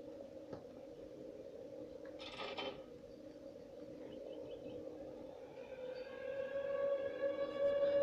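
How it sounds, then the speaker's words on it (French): A nuclear alert siren in the Garry's Mod video game rises as a faint, sustained wail, building steadily toward the end with a short mechanical burst early on. "Mais t'as pas une alerte nucléaire, là?"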